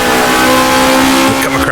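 A 12-cylinder 1960s F1 car engine in rFactor 2 holds a loud, sustained, buzzing drone with strong harmonic whine, rising slightly in pitch as it revs, close up.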